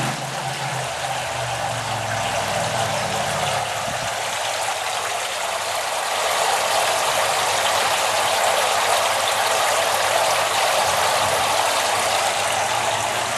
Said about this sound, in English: it'll teeter the other way and divert the water flow back into the other bed